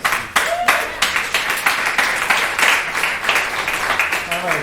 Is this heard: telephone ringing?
no